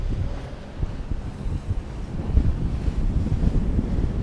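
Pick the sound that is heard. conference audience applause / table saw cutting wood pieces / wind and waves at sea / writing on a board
wind and waves at sea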